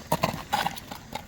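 Hooves of a tall purebred Karabair horse clip-clop in several quick, uneven strikes close by, with a faint whinny-like edge and no talking.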